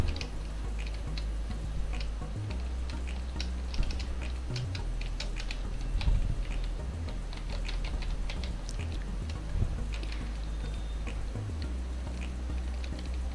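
Keys tapping on a computer keyboard while ledger names are typed into Tally accounting software, a steady run of light irregular clicks over a low background hum.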